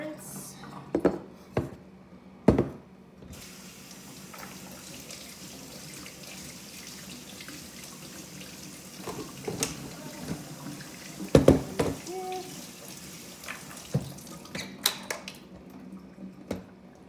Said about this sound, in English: I'm going to rinse these almonds. So quick rinse.